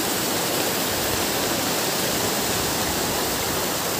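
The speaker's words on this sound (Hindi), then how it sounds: "वहाँ पे पानी इतना बाहर निकल रहा है" Water gushing out at a Himalayan water mill (gharat) makes a loud, steady, broadband roar that continues without pause, close and uninterrupted.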